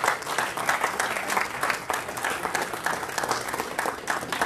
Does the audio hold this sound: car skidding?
no